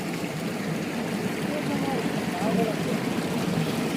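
Stream water rushing like a small waterfall outdoors, a steady broadband hiss and gurgle, close and fairly loud throughout without pauses.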